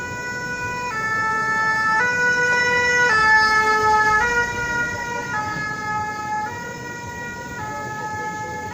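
A fire service emergency vehicle siren sounds a steady two-tone pattern, its stepped pitches alternating every second or so, near and loud at the finish area of the 2019 Boucles du Verdon running race in a spa town, with no talk.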